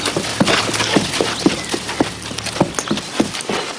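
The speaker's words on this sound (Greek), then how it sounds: "Πολύ ωραίο το άλογο σας." Hooves of a horse clip-clopping on a hard surface, a steady run of distinct sharp knocks at an even walking pace, close and fairly loud with no speech.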